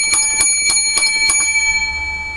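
Seven quick rings of a bright bicycle-style bell come in a fast, even series, each with a metallic ringing tone that lingers, then fade into a short quiet tail.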